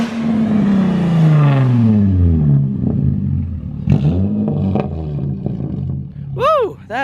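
Engine of a Nissan Z sports car revving hard and loud, a rising and falling roar with smooth harmonic sweeps, then a sharp blip and sustained high-pitched wail as it rushes close, with people talking over it.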